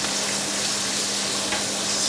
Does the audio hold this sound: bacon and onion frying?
yes